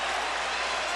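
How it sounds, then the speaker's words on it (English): A boxing arena crowd at the 2009 Juan Manuel Marquez vs Juan Diaz fight roars and applauds in a dense, steady wash of cheering and clapping. "Crowd rises to its feet again."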